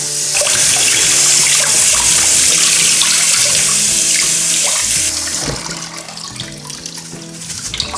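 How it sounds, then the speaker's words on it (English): Tap water runs steadily into a sink while rice is rinsed in a sieve, a loud continuous splashing wash that eases slightly toward the end. "So I pour it into a nice sieve so that we can wash it off and rinse it"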